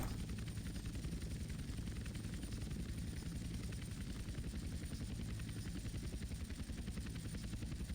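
Helicopter in GTA San Andreas hauling a heavy vehicle, its rotor drone loud, steady and continuous throughout with dense low-end thrum and no talking.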